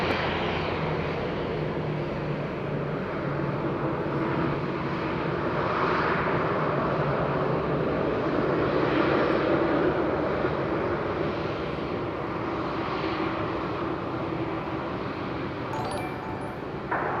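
A fixed-wing airliner roars at Madeira Island Airport, a broad, sustained engine rumble that swells gently in the middle and holds fairly close throughout.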